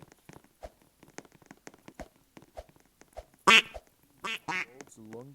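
Cartoonish duck quacks from a video game ring out in short bursts amid a string of sharp clicks and taps, with a few brief quacks clustered toward the end.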